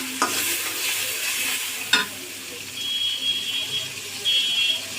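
Masala with salt frying in a pan for a prawn and taro lentil dish, a faint steady sizzle with two brief sharp utensil knocks and a soft high electronic tone later, quiet and close.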